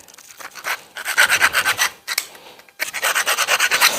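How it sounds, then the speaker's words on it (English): Hand filing to deburr a small aluminium piece: quick rhythmic rasping strokes, close and fairly loud, in two bursts separated by a short pause. "All I'm doing is taking the burr off it."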